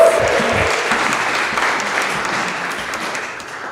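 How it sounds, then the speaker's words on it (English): At a university startup competition finals, the audience applauds a finalist team introduced on stage. Brisk, full clapping starts strong and gradually tapers off. "Let's give them a round of applause."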